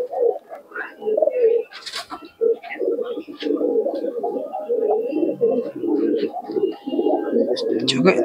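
Giribaz racing pigeons, a paired hen among them, coo in repeated throaty bursts close by, steady over several seconds with brief pauses, amid faint background voices.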